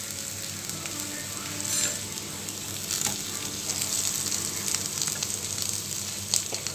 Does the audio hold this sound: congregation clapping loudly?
no